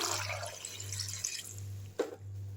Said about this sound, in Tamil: இப்போ இதில் வந்து ஒரு சொம்பு தண்ணி ஊற்றிக்கலாம்